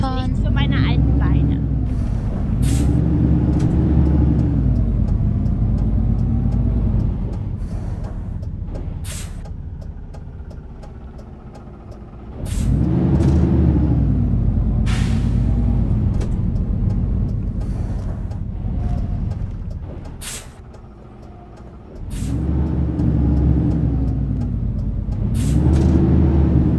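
A Hyundai New Super Aerocity 2022 CNG low-floor bus on Seoul route 5714 in OMSI 2 rumbles along, its engine rising and falling through gear changes, with repeated sharp hissing air-brake releases; someone talks over the drive throughout.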